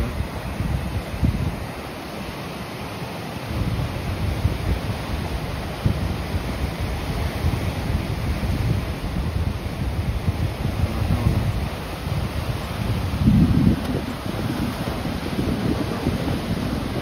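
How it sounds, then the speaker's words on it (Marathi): Big sea waves roll and crash on the shore at Harne port on the Konkan coast in a steady, loud wash, with wind buffeting the microphone and no voices. "एवढ्या मोठ्या लाटा आहेत."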